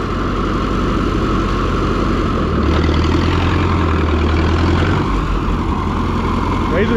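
A ZAS engine drones steadily while plowing in second gear, with a low, loud, even hum that deepens and strains slightly partway through.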